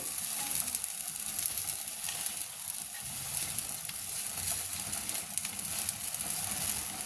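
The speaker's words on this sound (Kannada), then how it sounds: "ಕೊನೆಯದಾಗಿ ಜೀರಿಗೆ ಮತ್ತು ಕಸಕಸಿನ ಹಾಕ್ತಾ ಇದೆ ನೋಡಿ" Cumin and poppy seeds roast in a pan for Ugadi holige saaru, giving a soft, steady dry crackle and faint sizzle with light scattered pops, and no voices.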